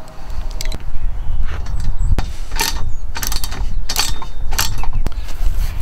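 A ratchet fitted with an extension and deep socket tightens a lock nut on a truck bed kayak rack, giving rapid clicking bursts in several runs with short pauses, close and fairly loud, with no talking.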